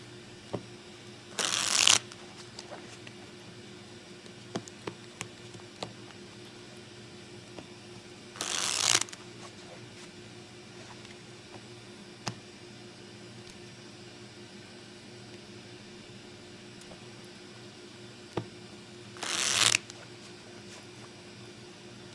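Three short, crisp riffles of playing cards during a blackjack shoe shuffle, spaced several seconds apart, with quiet handling noise in between.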